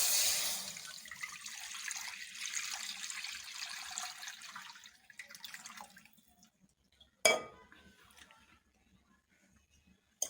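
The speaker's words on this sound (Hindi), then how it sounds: "इसके लिए सबसे पहले कढ़ाई में दूध डाल लेंगे।" About a litre of milk poured into a kadai makes a continuous splashing stream for around five seconds before it tapers off, followed by a short metallic clatter and near silence.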